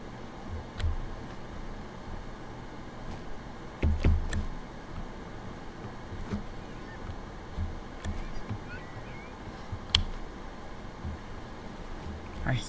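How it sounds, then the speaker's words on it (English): Seagulls call in the video game Palworld: scattered, brief cries rise faintly above a steady wash of outdoor ambience, spaced several seconds apart. "hear seagulls, but I don't see them."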